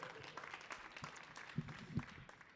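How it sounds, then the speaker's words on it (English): Light, scattered clapping from a modest audience at a Tshwane poetry exchange, fairly quiet and uneven, with a couple of louder thumps near the end. "Another round of applause."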